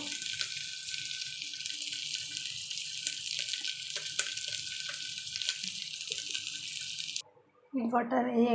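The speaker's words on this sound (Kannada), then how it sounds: "ಈ ಲೋಟದಲ್ಲಿ 2 ಗ್ಲಾಸ್ ನೀರು ಹಾಕಿದ್ದೀನಿ." Two glasses of water stream into a pot for jeera rice, a steady hissing pour lasting about seven seconds close by, followed by a brief pause and a voice speaking.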